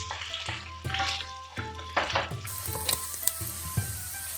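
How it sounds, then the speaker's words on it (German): Sliced meat searing in olive oil in a hot pan, a loud steady sizzle broken by scraping and clinking as the strips are stirred and turned, close up and without talk. "Das Geschnetzelte braten wir mit etwas Olivenöl in einer Pfanne scharf an."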